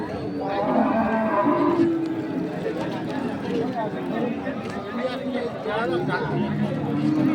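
Sahiwal, Sindhi and local-breed dairy cows with calves moo repeatedly at a busy cattle market, with long, loud lowing calls over constant crowd chatter and voices.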